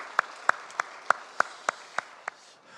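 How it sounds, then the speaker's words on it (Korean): A church congregation claps in celebration, though mostly one nearby pair of hands is heard: about eight sharp, evenly spaced claps over a faint background of other clapping that trails off at the end. "우리 애찬으로 봉사한 분들, 또 성경통독에 승리하신 분들 우리 박수로 축하하고 감사하겠습니다."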